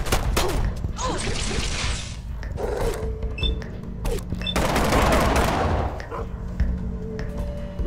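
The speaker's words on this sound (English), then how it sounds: "It's a laser gun, kind of loud." Gauss rifle laser gun fire in the Fallout Shelter video game, a loud run of rapid shots and heavy thumps with bright crackling bursts, continuous and dense throughout.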